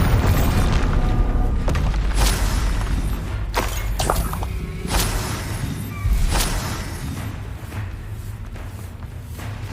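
Heavy booming blasts from a Bombarda spell in a Harry Potter video game, a series of loud deep thuds with crackling, shattering bursts that fade slightly toward the end.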